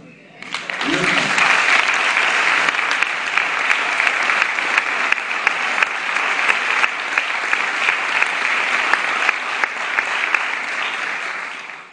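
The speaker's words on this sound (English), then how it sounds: "And I appreciate that applause" A large audience at a political speech claps loudly and steadily for about eleven seconds, a dense, sustained wash of applause with a few scattered whistles or cheers.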